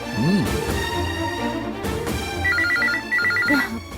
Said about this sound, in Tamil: கரெக்டா மணி அடிக்குது